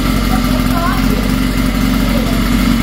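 Walk Bike 42cc motorized bicycle engine idling close by, a loud, steady low putter with rapid regular firing pulses, and a voice speaking over it.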